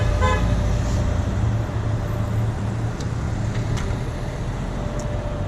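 Car horns honk at a roadside protest: a short horn toot at the very start, then steady passing traffic noise rumbling on underneath for the rest of the stretch.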